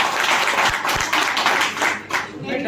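Crowd clapping at a meeting on old pensions and outsourcing, uneven rounds of hand claps that swell and thin out, with voices talking over and between them.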